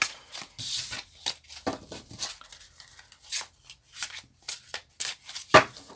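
A tarot deck is shuffled by hand in a quiet room, with a series of short riffling and slapping card bursts separated by pauses, close and fairly soft.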